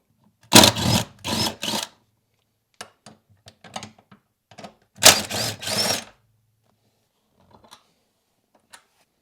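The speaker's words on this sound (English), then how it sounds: "We have 2 14mm bolts, which I'll remove." Two loud bursts of a power ratchet or impact tool spinning out 14mm front seat bolts on a Toyota 4Runner, close-up, with light clicks and taps between the bursts.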